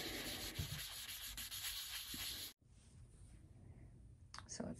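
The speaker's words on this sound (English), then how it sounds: "this 600 grit is keeping me from busting through like all the way down to the clear coat" Close, steady scratchy rubbing of 600-grit sandpaper on cabinet finish, in quick strokes, pausing briefly halfway before the rasping resumes more quietly.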